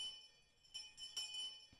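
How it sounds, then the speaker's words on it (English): Faint, thin bells chime in the Higurashi When They Cry game, a few soft struck tones over quiet background with sustained ringing. "Ooh, bells."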